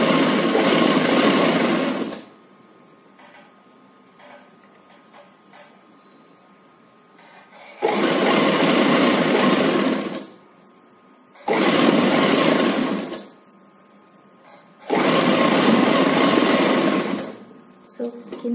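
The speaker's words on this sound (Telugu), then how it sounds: "మనం ఫస్ట్ ఒకటి ఇలా క్రాస్ స్టిచ్ వేసుకోవాలి." A sewing machine stitches a cross stitch on a baby frock. It runs in four loud, steady whirring bursts of several seconds each, separated by quiet gaps with faint movement.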